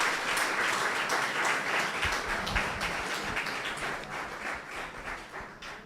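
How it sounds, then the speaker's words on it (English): Audience applause at a research conference fills the room steadily for several seconds, a dense wash of many hands clapping at moderate volume, tapering slightly toward the end. "let's give each other a round of applause."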